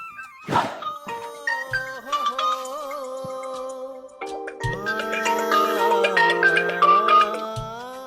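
A mobile phone's melodic ringtone plays on, a sister calling her brother, starting after a brief knock and continuing as a sustained, close tune with layered tones.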